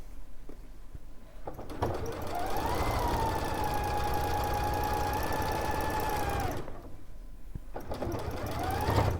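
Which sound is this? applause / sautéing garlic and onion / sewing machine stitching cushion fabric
sewing machine stitching cushion fabric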